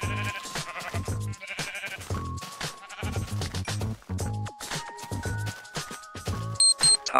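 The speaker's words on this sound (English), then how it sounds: "Sheep! Time to revoke their living privilege." Sheep bleating in an old version of Minecraft, short nasal bleats repeating in a choppy run, fairly close and clear, with no talking.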